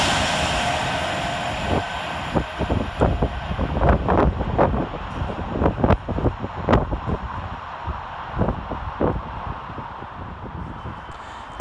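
An Avanti West Coast Class 390 electric train moves through Milton Keynes Central station, with a broad rushing roar and repeated sharp clacks and thumps of wheels over rail joints, moderately loud and without talk.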